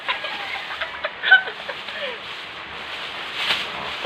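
Backyard chickens being fed cluck softly in short, scattered calls over a faint hiss, with a slightly louder burst near the middle.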